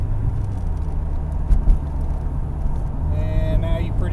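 A car fitted with an AMP exhaust droning at a track day, a steady low engine rumble with a brief bump in loudness midway and rising whine at the end, heard from inside with people talking over it.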